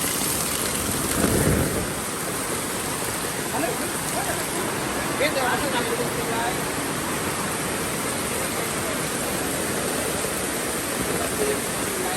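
Heavy rain from a typhoon in Hinaguan pours steadily in a dense, hissing roar, with a brief low rumble of thunder near the start.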